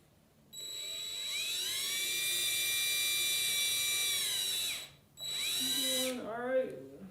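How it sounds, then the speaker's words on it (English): A power drill whines at a steady high pitch for several seconds, stops briefly, then spins up again before winding down, close by. "we're going to try to drill right in that hole a little bit"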